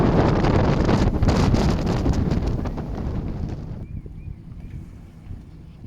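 Strong wind buffets the microphone on a sailboat at anchor in loud, roaring gusts that ease off toward the end, leaving a quieter rush with faint creaks.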